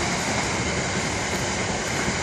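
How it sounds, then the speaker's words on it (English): A container freight train heading north from the Millbrook Maritime Terminal rumbles past in a steady, continuous roar with rail noise, loud and close throughout, with no talking. "From the Millbrook Maritime Terminal is a container train heading north."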